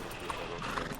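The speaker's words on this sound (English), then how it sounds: "Eu vou chamar o cavalo aí." Horse hooves clip-clop at a steady pace in Red Dead Redemption 2, faint and mixed into busy game ambience and soft background noise.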